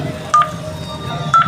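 A phone number is keyed in on a telephone as short, clear DTMF tones, a couple of distinct beeps spaced about a second apart, with quiet room noise between them.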